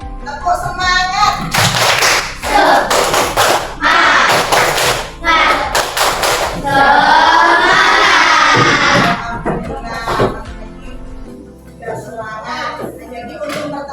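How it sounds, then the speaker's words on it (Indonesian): A classroom group performs a rhythmic spirit clap routine, bursts of loud unison clapping and thumping with children's shouts, broken by short pauses and a brief stretch of chanting voices. "Tepuk semangat"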